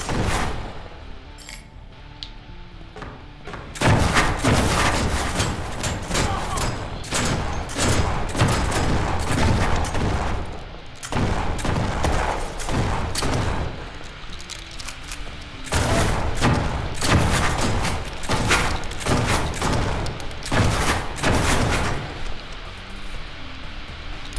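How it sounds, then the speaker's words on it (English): Video game combat with a thrown grenade amid gunfire: dense bursts of loud blasts and rapid shots repeat in waves across the clip, with brief quieter gaps between heavy explosive barrages. "Just throw a bomb at this point. It's a grenade"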